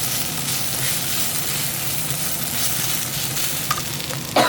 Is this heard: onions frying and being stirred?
yes